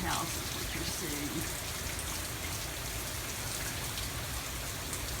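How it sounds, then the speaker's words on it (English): Rain from Hurricane Matthew drips and pours off a house roof in a dense, steady patter that stays loud and even throughout, with a faint voice briefly at the start. "Mostly what you're seeing here is the rain dripping off of my house."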